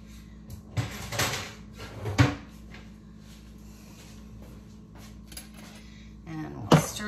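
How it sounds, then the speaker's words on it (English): A lid is taken off a kitchen pot, with a few clattering metallic clunks and knocks against a quiet kitchen background, a final sharper clank near the end. "let me get this lid out of the way."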